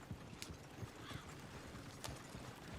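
Horse hooves clip-clopping in Red Dead Redemption 2, a steady rhythmic trot of soft thuds on dirt with faint ambient game sound behind and a brief whinny-like tone in the middle.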